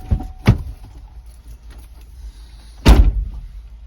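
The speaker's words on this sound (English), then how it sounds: "Open the door, close the door." A Chevrolet Silverado truck door thuds shut twice, once near the start and once near the end, with quieter cab handling noise in between and no talking.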